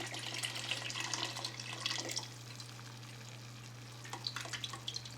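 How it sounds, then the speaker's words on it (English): Water poured into a pan of simmering marinara sauce, a splashing run of liquid for about two seconds, then quieter bubbling and a few brief splashes, all over a steady low hum. "And now you're going to want to add that water."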